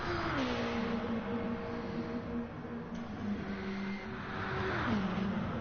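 A race car lapping a circuit, heard as a steady engine drone from inside or near the car, with the pitch climbing and dropping at gear changes, moderately loud and continuous with no talk.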